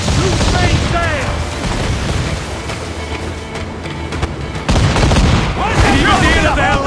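Ship cannons boom in repeated volleys during an Assassin's Creed IV: Black Flag naval battle, loud and dense, with sailors shouting over the barrage.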